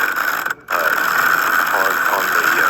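A $50 electric impact wrench runs with a continuous whirring, ratcheting mechanical drone throughout, briefly cutting out for a moment before resuming at the same steady pitch.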